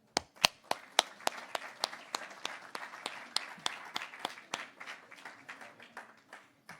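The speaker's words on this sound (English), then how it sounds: "everyone should just give themselves a round of applause for all the teams and all the hard work you did to get here" Sparse, sharp handclaps from a small audience at the 2019 World TeamTennis draft, distinct individual claps in a loose irregular rhythm, fairly close and clear, with no talking over them.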